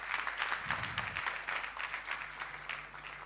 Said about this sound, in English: I don't know if they're clapping for me or they're clapping for her